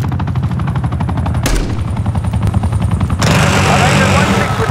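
A Watchdog helicopter scorestreak in Call of Duty Black Ops 6 fires continuous rapid machine-gun bursts over a rotor drone, loud and close, with radio-style voice chatter underneath and a louder volley near the end.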